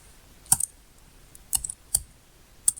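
A few separate keystrokes on a computer keyboard while entering text in Google Forms, sparse crisp clicks in small clusters close to the microphone, with no talking.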